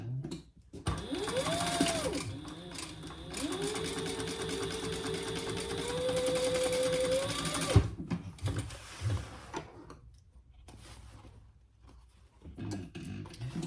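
A sewing machine stitches a dart seam on a triple-zip crossbody bag with a long continuous whirring run for about seven seconds, then stops; fainter handling and clicks of fabric and machine follow.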